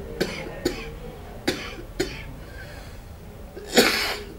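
Five short, sharp coughs from a patient during a varicose vein examination, the first four spaced about half a second apart, then a louder, harsher final cough after a pause, fairly close with quiet background.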